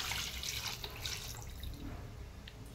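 Water being added to a pot for coconut rice, a soft running and splashing pour with a few drips, close and fairly quiet, alone with no talk.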